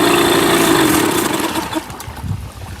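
A Mercury 8HP outboard engine idles in gear, a steady, loud mechanical drone with a constant low hum that roughens and wavers slightly toward the end.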